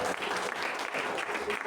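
A church congregation at a night prayer vigil bursts into a brief, dense round of clapping, heard at a moderate distance and fairly faint.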